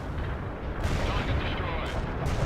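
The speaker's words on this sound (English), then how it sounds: "Cluster bomb hit nothing but dirt." Cluster bomb blasts in the World in Conflict strategy game hitting bare dirt, a dense continuous roar of overlapping explosions and crackling detonations with heavy low rumble throughout, under faint radio chatter.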